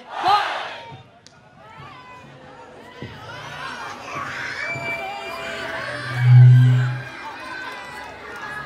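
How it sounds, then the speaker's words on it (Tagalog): Large crowd at a Red Bull Dance Your Style event in Rizal Park shouting a short call in response to a voice over the speakers, with loud group yells rising above amplified talk and a booming bass hit. "Pag sinabi kong Pinoy, sumigaw ng hoy!"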